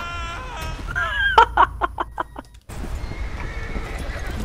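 A horse in Red Dead Redemption 2 lets out a loud, close whinny with a falling pitch, then short snorting pulses, followed by a sudden cut into steady game ambience.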